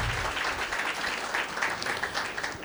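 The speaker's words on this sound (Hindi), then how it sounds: "इनको ऐसा बनाने वाले का जोरदार तालियों के साथ स्वागत है" Steady applause from an audience welcoming guests at a Diwali programme, dense and continuous without a break, fairly loud throughout.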